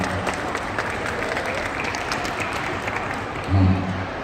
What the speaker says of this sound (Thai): ขอบคุณสำหรับเสียงปรบมือนะฮะปรบมือให้เพื่อนๆได้นะลูกนะ